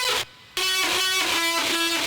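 A vocal chop pushed through overdrive and trash distortion: buzzy, gritty sung tones step between short pitched notes, broken by a sudden brief dropout near the start before the distorted line continues.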